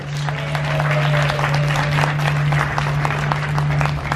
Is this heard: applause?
yes